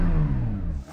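A Porsche 911 GT3 engine revving, a steady high-pitched drone held for about a second before cutting off at the end, heard alone and close.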